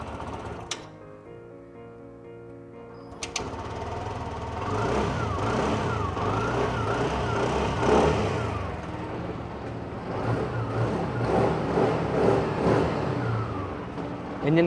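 A 2024 TVS Jupiter 125 scooter engine idles and is revved repeatedly, the buzzy motor note rising and falling in steady waves close by, with no talking.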